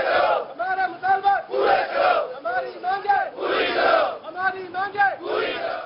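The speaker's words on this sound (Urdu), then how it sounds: "ملازمین نے مطالبات کے حق میں نعرے بازی کی" Protesting irrigation machinery workers chant slogans in unison, a loud rhythmic call-and-response of crowd voices in repeated bursts, close and filling the whole stretch.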